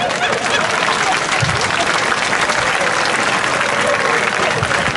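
Steady, dense applause from a crowd, loud and continuous for the whole stretch, with a few voices mixed faintly underneath.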